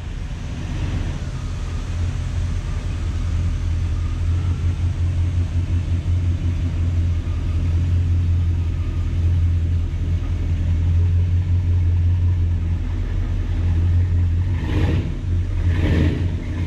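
A box Chevy Caprice rolls into an inflatable paint booth, its engine giving a steady, deep rumble with mild revving that stays close and even, joined by a couple of short bursts of noise near the end.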